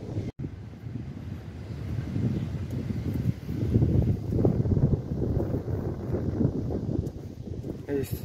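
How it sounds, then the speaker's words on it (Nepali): Strong wind gusts across the beach side at Lusail, Qatar, a steady broadband rush buffeting the microphone throughout, swelling louder toward the middle, with no talk over it. "यो चाहिँ लुसेलको बीच साइड हावा लास्टै चलिरहेको छ।"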